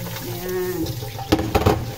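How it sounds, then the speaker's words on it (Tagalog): Dried anchovies (dilis) rinsed under running water at a sink, a steady close trickle joined by a few sharper splashes and clatters toward the end, with faint background hum. "Hugasan ko lang yung dilis."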